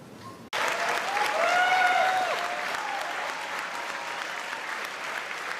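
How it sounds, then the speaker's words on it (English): Thunderous crowd applause, loud and sustained, bursts in abruptly after a brief quiet moment and holds steady, with cheering tones rising over the clapping. "their actions are met with thunderous applause."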